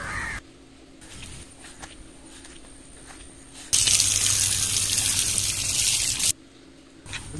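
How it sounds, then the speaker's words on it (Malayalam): Several crows circle overhead and caw repeatedly. A loud, rushing, water-like noise swells up in the middle, and no one talks. "കുറെ കാക്കകൾ പറക്കുന്നുണ്ട് വട്ടോട്ട്"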